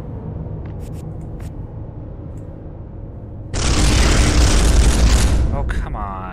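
Loud burst of gunfire and explosive blasts from the Space Hulk video game erupts midway, following a stretch of lower rumbling game sound.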